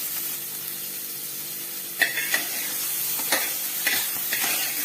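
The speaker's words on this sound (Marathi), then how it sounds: "तेल तापले का जिरी मोहरीची फोडणी दिली मस्तपैकी कांदा टाकून भीती चांगला फ्राय करते" Onion fries in hot oil tempered with cumin and mustard seeds for a soybean curry, a constant close sizzle with a few sharp spatula scrapes and taps against the pan, no voices over it.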